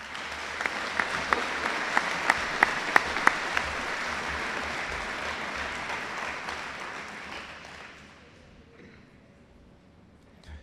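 An audience claps for students at a school awards presentation, with steady applause and several sharper individual claps standing out early on, then the clapping fades away to near quiet.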